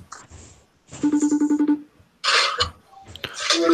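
An electronic phone ringtone plays a short rapid run of repeated beeping tones, followed by bursts of louder noisy rustling.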